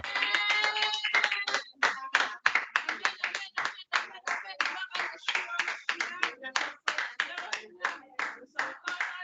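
A church congregation claps in a steady rhythm of loud, close hand claps throughout a worship service, with voices mixed in under the clapping.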